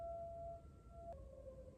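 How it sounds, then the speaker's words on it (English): Faint sirens wail in the distance, thin sustained tones that shift pitch partway through over a low background rumble. "Wow, sirens."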